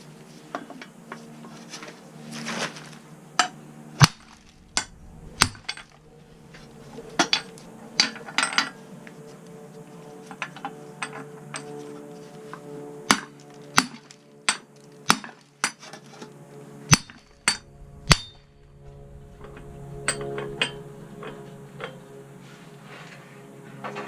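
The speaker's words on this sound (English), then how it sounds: "just beat that out with a hammer" A big hammer beats a wheel hub out of its bearing on an Acura Integra, sharp metallic clangs striking in irregular bursts and single blows over about 24 seconds, with quiet gaps between hits and no talk.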